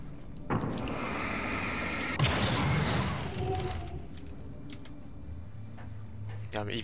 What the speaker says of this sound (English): What was that ticking I heard?